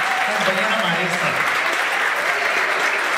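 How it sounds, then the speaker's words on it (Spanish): An audience at a school for parents certificate ceremony applauds a teacher, a full steady wash of many hands clapping, with voices faintly underneath. "Fuerte el aplauso, fuerte la compañera, compañera maestra."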